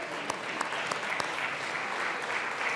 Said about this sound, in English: everybody give them a round of applause for coming down today.